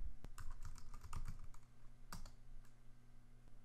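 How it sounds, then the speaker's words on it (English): Keys clatter on a computer keyboard as a profile name is typed into Kodi, a close run of quick, irregular taps with a couple of sharper key strikes and short pauses, no voices. "Type in the name of your profile."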